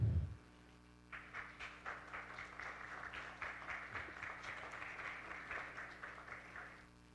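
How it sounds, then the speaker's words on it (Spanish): An audience at a social-security conference gives a fairly faint, steady round of applause that lasts several seconds to welcome a senator and the panel of speakers. "a quien recibimos junto con todos los ponentes con un cálido aplauso"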